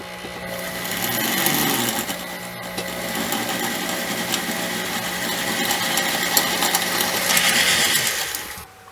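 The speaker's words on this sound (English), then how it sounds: "Drill straight down and go slow so I don't dull my drill bit." Slow drilling of a hole in a small metal jewelry piece resting on a steel block, a steady grinding, gear-like mechanical whir running close and continuous for the whole stretch.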